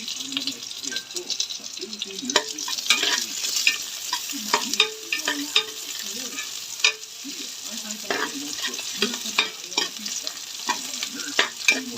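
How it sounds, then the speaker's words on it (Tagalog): Onions go into a pan of golden-brown frying ginger, sizzling softly under steady stirring and scraping clatter, with a voice faintly in the background. "Yan, lagay natin sibuyas kasi golden brown na yung luya."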